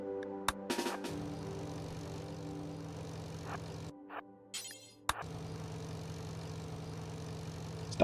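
A vehicle engine in RimWorld hums steadily at idle, a low droning tone with sharp clicks, dropping out briefly in the middle before resuming, with no talking.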